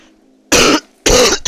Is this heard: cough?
yes